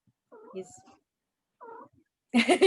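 A pet cat meows during an online class, two short close meows separated by a pause, followed by a burst of people talking.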